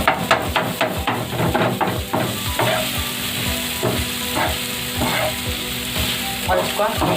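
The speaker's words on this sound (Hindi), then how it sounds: "इसको इस तरह से फिश कटकट करके चॉप करेंगे" Fish katakat being chopped with metal spatulas on a hot tawa: rapid, loud rhythmic clanking strikes over a continuous sizzle, with no talking.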